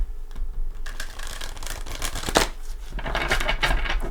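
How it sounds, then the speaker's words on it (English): A deck of tarot cards is shuffled by hand in close, crisp bursts of riffling and slapping paper, a couple of rapid rounds with brief gaps between them. "Give it a couple good shuffles"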